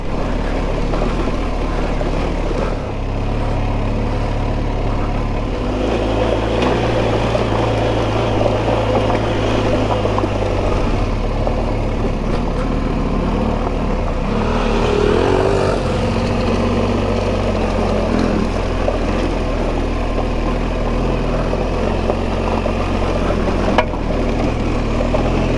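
A BMW GS Adventure enduro motorcycle rides a gravel road in Albania, its engine droning steadily and loud throughout with continuous crunching road and wind noise, no talk.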